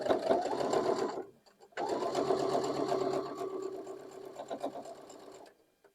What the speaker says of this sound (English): take this to the sewing machine and piece these together